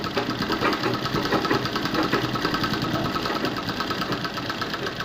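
A sewing machine stitches a blouse patti piece in a steady, continuous motorised whir with a rapid needle rhythm, loud and close throughout, with no talking.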